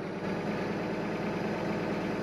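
A big tractor engine in Farming Simulator 2013 running at a steady low rumble, a continuous droning hum with no pauses, moderately loud and alone.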